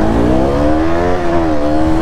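KTM Duke 200 and Pulsar NS 200 motorcycles launch in a drag race start, engines revving loud and close with rising, strained tones that swell and dip briefly.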